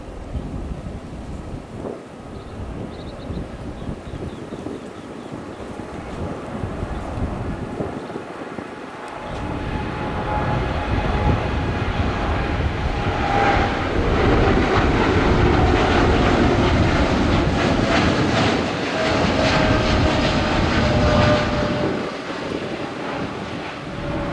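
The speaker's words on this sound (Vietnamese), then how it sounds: "mời mọi người chiêm ngưỡng pha cất cánh của chiếc máy bay với màu sơn rất đẹp này, cất cánh rời khỏi sân bay Tân Sơn Nhất" A Corsair Boeing 787-9 Dreamliner takes off from Tan Son Nhat airport, its jet engine roar swelling into a loud, sustained rumbling thunder, with gusting wind buffeting the microphone throughout.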